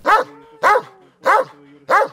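Dog, a former stray now guarding a company yard, gives four loud, evenly spaced barks at close range, with no talk.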